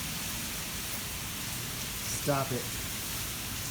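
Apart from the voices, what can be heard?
heavy pouring rain during a flash flood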